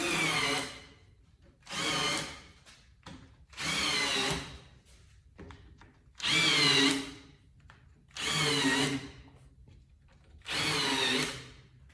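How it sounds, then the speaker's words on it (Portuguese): A power drill drives screws into a furniture niche, whirring in six loud, steady bursts of about a second each, separated by short pauses and faint handling noises. "E agora parafusar."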